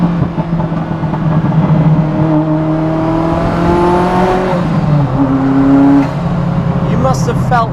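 A 1991 Ferrari F40 accelerates hard in second gear, its loud engine note rising steadily and then easing off, up close and heard from inside the car.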